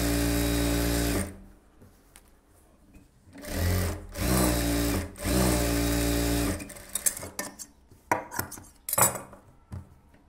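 A sewing machine edge-stitches the lining of a silk saree blouse, running in several loud bursts separated by pauses filled with softer clicks and fabric handling.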